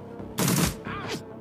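Gunfire in the video game Shadowrun Returns: a loud burst of shots lasting about a third of a second, followed after a short pause by a second, softer volley.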